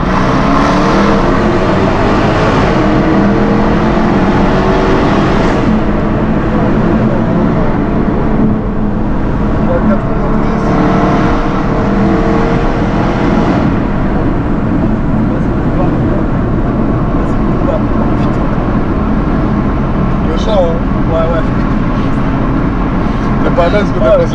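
Supercar SVR engine roaring inside a tunnel, a loud, continuous drone that swells and echoes, with several rises in revs, while people talk over it.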